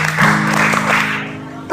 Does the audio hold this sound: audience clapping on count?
yes